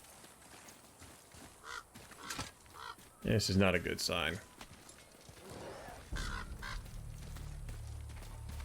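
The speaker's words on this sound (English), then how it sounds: "I heard a bird." Honking, squawking bird calls in the video game God of War burst out loudly for about a second amid game ambience, with a person talking over the scene.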